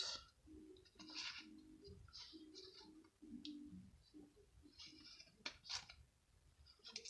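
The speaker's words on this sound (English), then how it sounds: "Now we want to cut this out." Scissors snip through paper while a heart shape is cut out, giving a series of quiet, irregular crisp cuts and rustles, with a soft low murmur running underneath.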